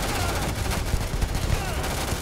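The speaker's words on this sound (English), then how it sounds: "How about if we put ammunition in that gun?" Gunfire from a weapon in Starfield's survival mode, a steady stream of close shots over a noisy background of combat and ambient sound.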